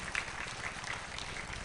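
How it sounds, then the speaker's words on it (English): Faint, distant applause from a school annual-report audience, an even wash of many hands clapping with no talk on top. "I think deserves a huge round of applause."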